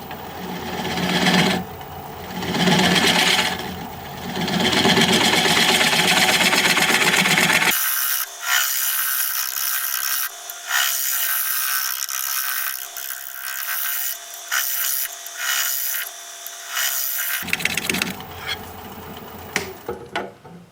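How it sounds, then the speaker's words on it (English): A hazelnut wood bowl is scraped on a lathe: a steady, loud rasping and whirring that drops to a thinner, high scratchy grind midway before the full rough scraping resumes near the end. "let's scrape it."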